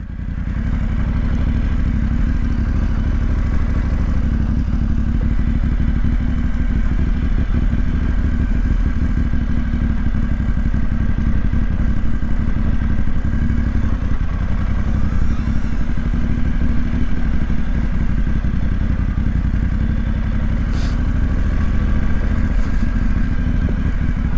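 A 2025 BMW F900GS motorcycle rides a mountain road, its engine droning loud and steady throughout with constant wind rumble, heard alone and close.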